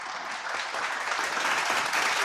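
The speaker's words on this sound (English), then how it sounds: "A big round of applause for our speaker for today" Steady round of applause from an audience at a live-streamed high-level discussion on economic recovery, filling the whole moment with dense, even clapping and no voices on top.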